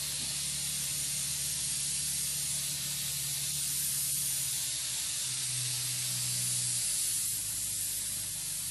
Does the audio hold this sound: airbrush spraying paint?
yes